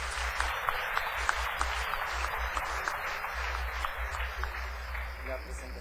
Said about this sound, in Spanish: recibamos con un aplauso al ingeniero Aaron Redroban